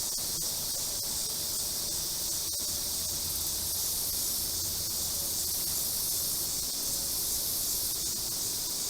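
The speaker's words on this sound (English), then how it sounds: "Cicadas have been busy." Continuous high-pitched buzzing drone of cicadas fills the air, steady and unbroken, with no voices.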